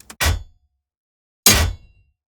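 A pair of heavy bladed-weapon impacts with a bass layer underneath, each a bright metallic clang landing with a solid low thump and fading quickly, about a second apart in otherwise dead silence.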